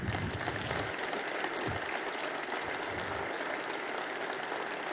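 Sustained audience applause during a political speech at La Rural exhibition grounds in Buenos Aires, a dense wash of clapping from a large crowd holding steady throughout at even loudness with no talk over it.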